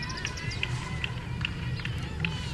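Noisy cheering and shouting from a cricket team's supporters at a match, a steady outdoor crowd roar with scattered higher calls and whistles rising through it.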